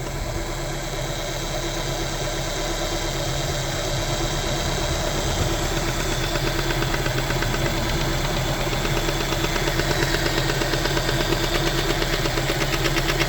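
A Honda Civic EF sedan engine idles steadily after timing belt work, a continuous mid-pitched running hum with faint ticking and vibration, no voices.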